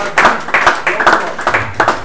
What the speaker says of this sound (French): le public, comme toujours, on va l'applaudir